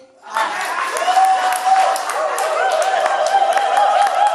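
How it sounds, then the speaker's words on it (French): A church congregation breaks into sustained applause, a dense wash of clapping that starts abruptly and holds steady, mixed with cheering voices and a tonal sound running underneath. "Applaudissez."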